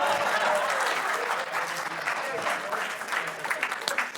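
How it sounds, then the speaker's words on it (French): A church congregation breaks into sustained, dense applause for a woman celebrating her 65th birthday, many hands clapping loudly and steadily with crowd noise throughout. "Est-ce qu'on peut donner une autre main d'acclamation parce qu'elle ne fait vraiment pas ses 65 ans?"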